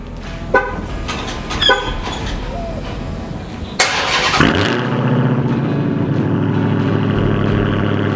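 A Dodge Hellcat Redeye on its stock exhaust starts with a sharp burst, then settles into a loud, rumbling idle; clicks and shuffling noises come before the start.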